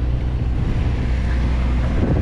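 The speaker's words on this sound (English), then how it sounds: "Apologize for the wind." Wind blows hard into the microphone outdoors, a steady roaring rumble that covers the whole clip, with no voices and no other clear sounds.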